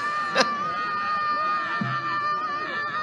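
A crowd gathers outdoors, with sustained screaming and wailing voices that blend into a continuous din and one sharper shout rising above it.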